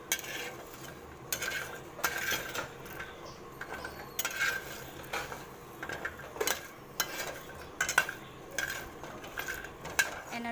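Jackfruit seeds stir-fried in their peels in a pan, with repeated scraping and clinking of a utensil against the metal in an irregular rhythm over a faint sizzle, close by and with no talk.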